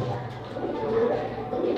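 A domestic pigeon, among fancy breeds such as pouters, gives a soft low coo, a short, fairly quiet murmur with no talk over it.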